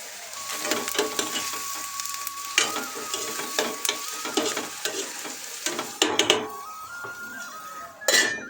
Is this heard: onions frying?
yes